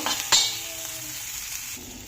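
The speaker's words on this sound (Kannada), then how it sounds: "ಈ ಥರ ತವಾ ಮೇಲೇ ನೀಟಾಗಿ ಎಲ್ಲ ಮಿಕ್ಸ್ ಮಾಡ್ಕೋಬೇಕು." Pulao with paneer being stirred and mixed on a hot tawa, with a steady frying sizzle, a sharp scrape of the spatula near the start and continuous close stirring, no voices.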